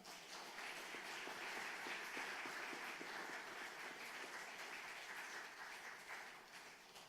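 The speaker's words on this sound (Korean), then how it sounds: "박수 부탁드리겠습니다" A church congregation applauds during a pastor's installation and ordination service, a steady, dense wash of clapping that carries on evenly for several seconds without a break.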